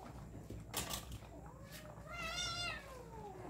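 Pet cats meow at home, with a drawn-out, rising and falling meow near the middle. Quiet kitchen clatter comes before it, and the whole thing is faint and close.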